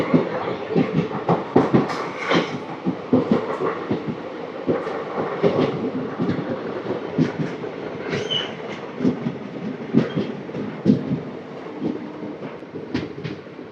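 The 17219 Machilipatnam–Visakhapatnam Express rolls along the rails with rhythmic clickety-clack of wheels over joints, a continuous rumbling run with occasional faint squeals.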